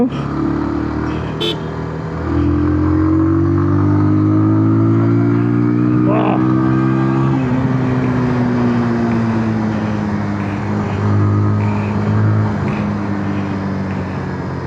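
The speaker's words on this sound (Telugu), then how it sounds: "and at the same time exhaust note" A 2026 Bajaj Pulsar 180 motorcycle revs, its exhaust note a loud, close engine drone with rising and falling tonal pitch sweeps that climb high and ease off across several revs, with no talking.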